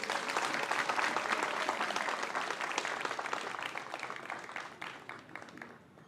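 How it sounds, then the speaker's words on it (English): Audience applause at a university leadership transition event, a full, steady round of clapping from many people that slowly thins and fades toward the end. "A round of applause."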